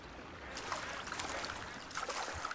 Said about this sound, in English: There's that splashing sound.